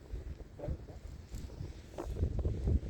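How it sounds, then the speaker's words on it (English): Steady low rumble of wind buffeting the microphone, gusting louder toward the end, with faint rustling and no voices. "Oh man, it's windy."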